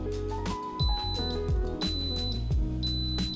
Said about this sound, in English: now that the Instant Pot has finished, we've just heard the beeps to let us know that it is done